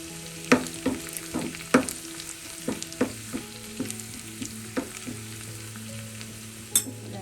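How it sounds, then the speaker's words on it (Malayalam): Curry leaves crackle and spit in hot oil as a tempering for chicken mulakittathu, with sharp pops loudest early and thinning to a steady sizzle, no talking. "അതോടൊപ്പം തന്നെ കറിവേപ്പിലയും കൂടെ ചേർത്ത് മൂപ്പിച്ചെടുക്കാം."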